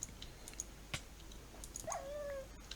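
A small dog-like yelp sounds as a Fallen Angel demon dies in a Minecraft modpack game, a short whining tone after a few faint clicks over quiet background noise.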